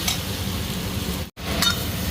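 Bitter gourd and spices frying in a pan, a steady sizzle with light scraping and clinks of stirring throughout, broken by a brief gap midway, no voices.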